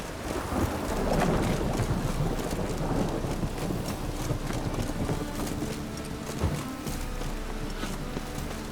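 In The Witcher 3 on Xbox One X, a thunderstorm fills the scene with dense, steady rain and low rumbling thunder, while horse hooves clop underneath throughout.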